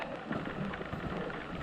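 Steady rain falls during a wet canoe trip in Algonquin, with a soft, even hiss and patter that stays faint and continuous throughout, and no talking.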